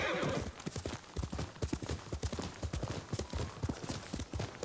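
Horse in Ghost of Tsushima arriving at a gallop: a whinny at the start, then rapid, rhythmic hoof clip-clops drumming close by and steadily throughout.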